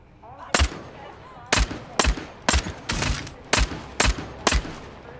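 Gunfire in a vampire battle royale video game: eight sharp, loud shots fired one by one at a steady rhythm, roughly half a second apart, with quieter game ambience underneath.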